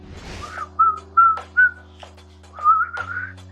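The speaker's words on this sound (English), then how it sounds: "So I was trying to whistle for this question" Someone whistles a short tune of several clear notes, separate phrases with brief pauses between them, close to the microphone in an otherwise quiet room.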